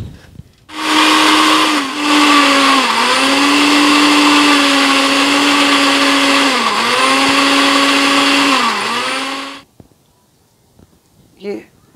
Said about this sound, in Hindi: चलते हैं इसको थोड़ा इसको ग्राइंड कर लेते हैं।